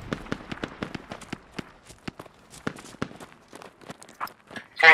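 Rapid gunfire crackles in the military shooter game Squad as a string of sharp, irregular shots, some in quick bursts and others spaced apart, loud and close with a louder blast at the very end.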